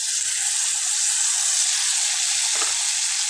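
Maggi noodles fry with salt in a pan, giving a loud, close, continuous sizzle with a faint scrape partway through and no voice.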